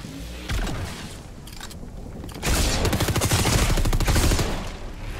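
An SMG firing in Fortnite, with a few scattered shots early on, then a long sustained rapid burst that is loud and close before tapering off.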